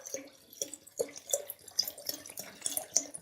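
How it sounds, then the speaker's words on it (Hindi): Cold water pours from a tap into a Rooh Afza and watermelon drink, with soft, irregular splashes and drips that stay close and fairly quiet with no talking. "अब हम इसके अंदर ठंडा पानी ऐड करेंगे।"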